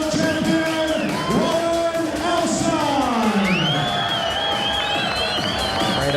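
Crowd ovation for fighter Warren Elson at a boxing bout, a loud sustained roar of cheering, whoops and yells from a large audience, with a commentator speaking over it.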